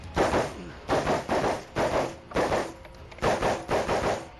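Shots ring out at a 3-gun shooting ranch where pistol, rifle and shotgun are used, a rapid run of roughly a dozen loud, evenly spaced reports in quick succession.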